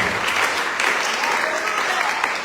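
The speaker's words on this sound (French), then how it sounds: "Est-ce qu'on peut acclamer le Seigneur?" Worshippers at a Tuesday church service burst into sustained, close applause to acclaim the Lord, many hands clapping densely with some voices rising underneath.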